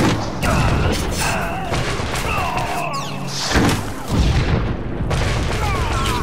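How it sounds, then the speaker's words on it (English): Explosive shots fired in combat in the sci-fi game Star Wars: The Old Republic, playing as a Trooper, heard as a dense run of booming blasts and crashing impacts mixed with game effects, with a heavier burst near the end. "I just like this explosive shot"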